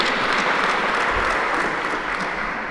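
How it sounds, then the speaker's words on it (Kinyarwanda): Dense, steady applause from an audience at a certificate-awarding ceremony in a parish, continuous and fairly loud throughout with no break. "mushimbire cyane amashyi yanyu"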